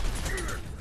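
A rifle bolt is worked in a video game, a short close mechanical clack and slide with a metallic creak, heard alone and loud.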